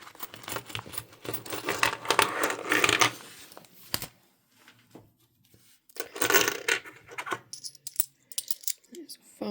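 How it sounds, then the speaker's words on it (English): Bursts of metallic clinking and rattling as a pile of British pound coins is poured and counted, in two busy stretches separated by a quieter pause. "We've got a lot of coins for this week."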